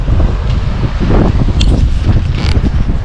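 Strong wind buffeting the microphone at a lakeside campsite in the Cape Breton Highlands, a loud, gusty, rumbling roar with a faint higher rustle, continuous and without voices.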